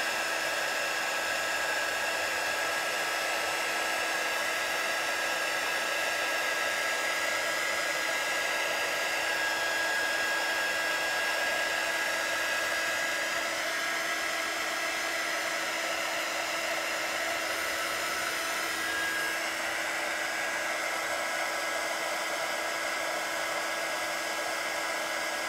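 A hair dryer runs steadily on Pentart crackle paste, a loud, constant whooshing blow with a high whine that holds unchanged for the full stretch, alone with no talk.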